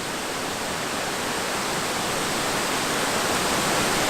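A waterfall pours steadily in a continuous, loud, broadband rush of falling water, close and unbroken, with no voices over it.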